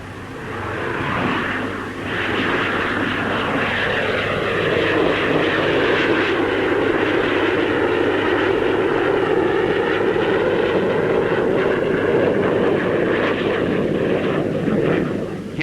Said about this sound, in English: Among the fighters on show is the two-seater radar-carrying Gloucester Javelin.